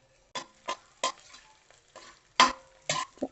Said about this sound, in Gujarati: હવે આપણે ધીમે તાપે બધું એને તળી લેશે